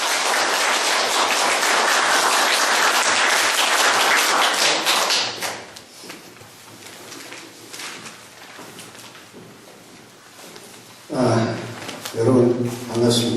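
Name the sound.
audience applause welcoming lecturer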